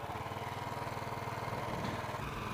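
Royal Enfield Bullet 350 single-cylinder motorcycle engine idling after a kickstart, a steady, close, loud thumping putter with an even rhythm and no talking.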